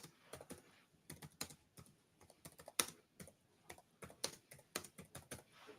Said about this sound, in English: I was typing something out.